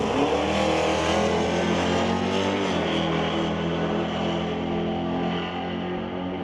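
A drag racing car in a pro final event launches hard and roars down the strip, its loud, sustained engine note holding steady and then easing slightly as it pulls away, with no voices over it.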